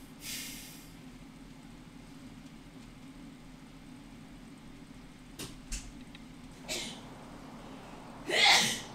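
A single sharp sneeze bursts out near the end, loud and close, after quiet room noise with a few faint knocks and clicks.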